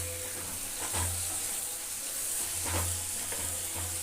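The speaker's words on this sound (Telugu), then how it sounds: "మొత్తము మిక్స్ అయ్యేలా కలుపుకోవాలి." Chicken kandan curry being stirred and mixed in a pan, a steady sizzle throughout with a few brief scraping strokes of the spoon, close and moderately loud, no talking.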